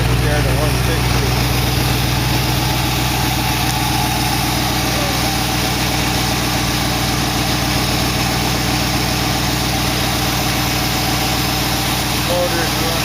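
A 1914 car engine idles steadily under a low, even rumble with a constant mechanical drone, running continuously without change throughout.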